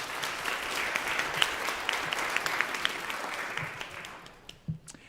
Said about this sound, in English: So a round of applause for the Nichols Concert Hall staff,